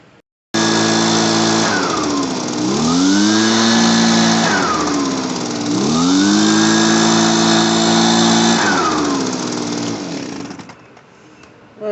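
Echo PB-265LN backpack blower running after a carburetor repair: the small two-stroke engine catches abruptly, revs up and down in two long swells with a steady idle between, then cuts out near the end.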